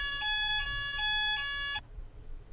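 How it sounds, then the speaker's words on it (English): A fire alarm beeps early in the morning in a UK home, a piercing high electronic tone pulsing in four quick bursts before cutting off abruptly, leaving faint background noise. "Fire alarm."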